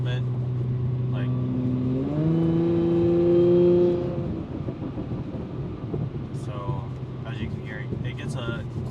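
A 2013 Audi S4 (B8.5) engine and exhaust drone that rises in pitch and loudness as it accelerates, then settles back into a steady rumble with a voice briefly under it.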